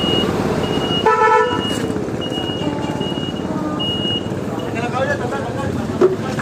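Street traffic hums with vehicle engines while a car horn toots a short, clear honk, followed by scattered fainter beeps and a passing rumble, with people talking over it.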